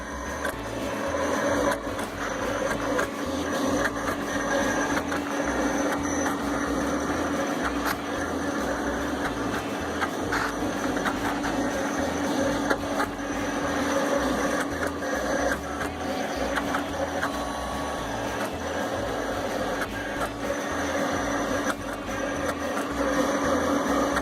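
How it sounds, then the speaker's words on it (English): A vinyl cutter fitted with a pen plots a name design, giving a steady mechanical whirring with rapid stepping motor chatter and small clicks throughout, running alone without talk. "come over to your vinyl cutter, and since it's already set up, it should start plotting what you designed"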